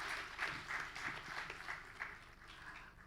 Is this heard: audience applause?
yes